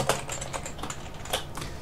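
Rapid typing on an English US computer keyboard, a quick irregular run of close, crisp key clicks with small pauses between bursts and no voices.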